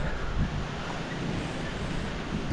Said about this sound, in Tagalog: Ayun na, umulan na naman.